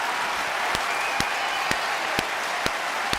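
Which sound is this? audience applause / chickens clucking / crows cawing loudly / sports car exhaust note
audience applause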